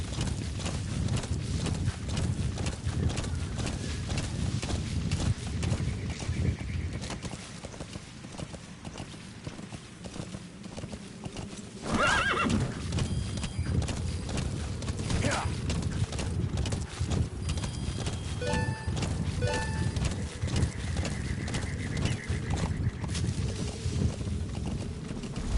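D-Horse in the Metal Gear Solid V video game trots with rapid clip-clop hoofbeats throughout, and a short neigh breaks in about halfway through.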